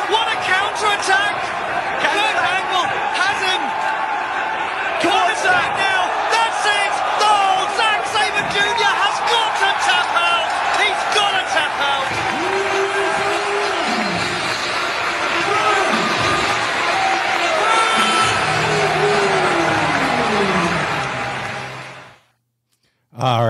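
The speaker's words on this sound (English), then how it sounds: "First of all, the crowd, awesome." Wrestling crowd at a UK show, a dense roar of cheering and chanting that runs almost unbroken for over twenty seconds with announcer-like voices mixed in, then cuts off abruptly.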